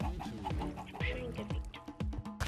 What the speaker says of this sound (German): Ja, und die Hühner?